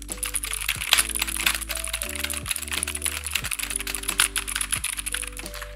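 Fast, clicky typing on a mechanical keyboard with blue switches, a dense stream of sharp keystrokes close up, with a steady electronic tone running underneath.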